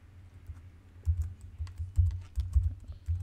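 Keys tapped on a laptop keyboard while a password is entered, a steady run of light, close clicks that cluster into a few louder bursts, with no talking.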